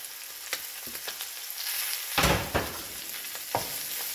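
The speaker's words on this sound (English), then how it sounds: "Stir and let the tomatoes break down into a paste." A spoon stirs tomatoes and chilies in a cooking pot for a beef stew, giving sharp scraping clicks over a constant soft sizzle. There is a louder burst of frying partway through.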